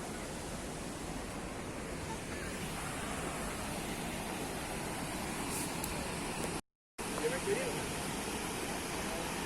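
The Düden waterfall in Turkey roars as a steady, broad rushing wash of falling water, loud and continuous, with a brief dropout near the end.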